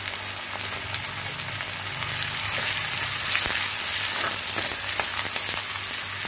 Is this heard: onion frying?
yes